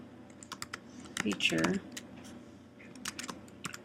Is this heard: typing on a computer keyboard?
yes